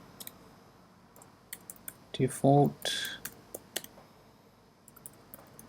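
Code is typed on a computer keyboard, with scattered key clicks and short bursts of taps spread across the stretch. A person speaks briefly partway through.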